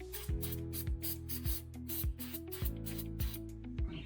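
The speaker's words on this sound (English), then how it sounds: "I've got some throttle body cleaner here." Throttle body cleaner is sprayed onto motorcycle parts during a KTM Adventure 640 LC4 repair, heard as a quiet series of short, repeated aerosol hisses in quick succession, close by.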